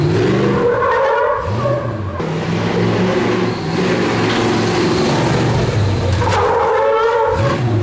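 Chevrolet K5 Blazer off-road truck driving on two wheels, engine roaring loud and near with revving surges, tire scrub and skidding noise throughout.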